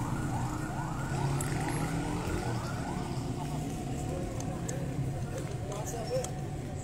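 An ambulance siren wails with rising and falling sweeps during a large street rally, partly masked by a dense crowd roar and traffic noise. Someone speaks over the scene.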